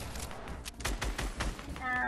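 Rapid bursts of gunfire in Fortnite, a quick volley of sharp shots sounding over faint game noise and ending in a brief electronic tone, with a player talking in the background.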